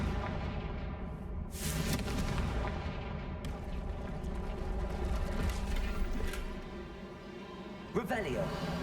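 A Confringo spell explosion in Hogwarts Legacy, a sharp blast followed by a rumbling layered game soundscape with crackling impacts, and a talking voice throughout.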